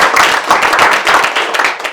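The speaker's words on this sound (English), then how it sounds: "a round of applause for the man in the room" Loud, close audience clapping at a Black History Month debate in a room, brisk uneven claps that swell and dip in waves over two seconds.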